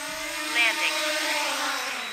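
A small DJI Mini 2 SE camera drone comes in to land, its rotors giving a steady high whine with a brief louder swell, under a voice talking.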